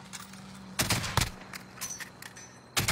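Bursts of gunfire in the Warzone shooter game on the Caldera map, a few sharp shots and short volleys with gaps between them, fairly close.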